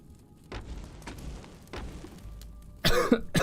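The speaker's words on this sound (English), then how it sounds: "excuse me whilst I cough my lung out" A streamer coughing during a Caves of Qud live game session: several separate heavy, close coughs spaced out, ending in a louder burst of harsh coughing.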